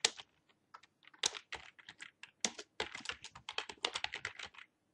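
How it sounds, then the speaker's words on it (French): Rapid keyboard typing on the Tab key, with sharp clicking keystrokes in irregular bursts, close up, ending in silence. "Retabuler une fois avec la touche du clavier."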